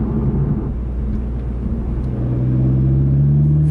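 Toyota Supra 2.0 turbo engine lugging at low RPM in manual mode, a steady deep rumble with a low drone that rises slightly in pitch and grows a touch louder, heard from inside the car with no talking.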